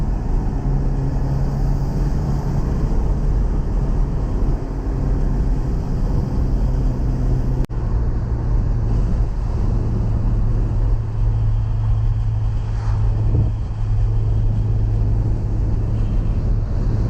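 Continuous engine drone and road rumble from inside a moving car with a stock exhaust, steady and loud throughout, with no talking.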